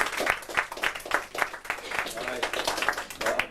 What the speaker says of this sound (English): give her a big clap for that there